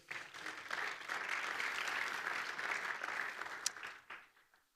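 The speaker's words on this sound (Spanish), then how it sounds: "Démosle palmas al Rey" A church congregation claps steadily together during a worship service, dense applause filling the room for several seconds before tapering off at the end.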